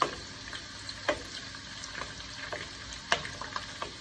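Food frying in a pan for a breakfast meal, with a steady sizzle and a few sharp scrapes and clicks from stirring, all close and with no talking.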